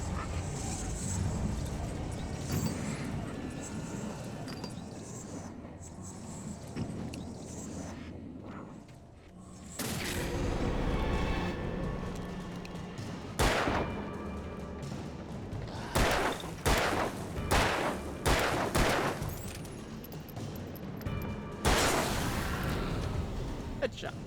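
Gunfire in the video game Alan Wake: a handful of loud, sharp bursts at irregular intervals, some fired in quick succession, over a steady rumble of game ambience.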